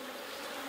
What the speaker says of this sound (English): Hive one bees are still hanging out around me.